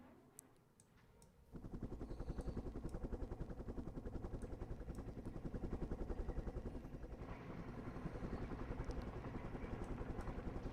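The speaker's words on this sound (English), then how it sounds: "Look at our helos go" Helicopters flying in the war strategy video game Flashpoint Campaigns, a loud steady rotor thump that starts abruptly after a quiet moment and holds rhythmically with faint ticking clicks.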